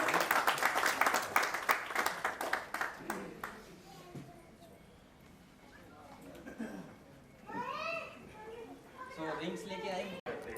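Congregation at a church service clapping in praise, a quick rhythmic run of claps for about three seconds that fades out, followed by quieter voices speaking in the room.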